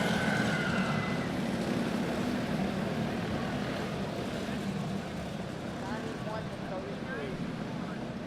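Junior 1 Clone Light racing engines drone past the finish line at a winter shootout, making a steady, buzzing roar at a distance. An announcer talks over the noise.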